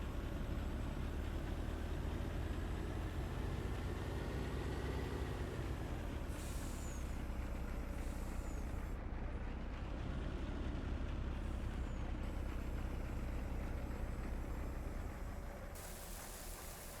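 A truck in Farming Simulator 19, in need of repair, lets out several sharp air-brake hisses over a steady, loud engine drone, with the bursts spaced a few seconds apart and no talking.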